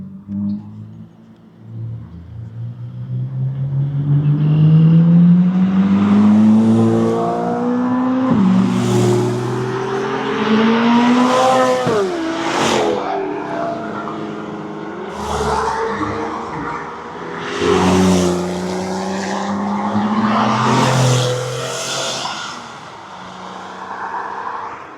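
Club cars drive past one after another on a spirited group drive, engines rising loud and close then fading as each passes, with revving and shifting through a continuous procession.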